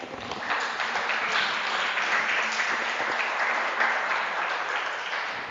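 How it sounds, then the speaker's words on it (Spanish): A church congregation applauds during a Spanish-language sermon, dense steady clapping filling the room for several seconds without letup. "Den un aplauso al Señor"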